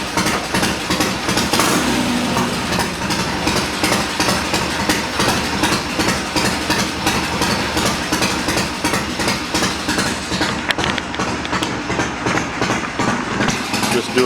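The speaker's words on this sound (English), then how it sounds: "I'll go ahead and get her fired up here. It's cold, hasn't been run for several hours now" A cold Triumph motorcycle engine in a bobber build, run after sitting several hours, drones steadily and loudly throughout with a rough, uneven idle and faint background noise.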